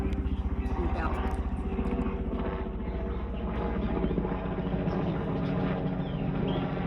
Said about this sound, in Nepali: हाम्रोतिर चाहिँ हेलिकप्टर पनि आयो.